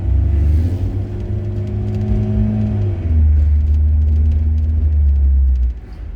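An out-of-tune diesel engine drones loudly nearby with a deep, steady rumble that shifts pitch slightly partway through, then cuts off near the end.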